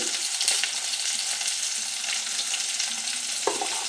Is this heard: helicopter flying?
no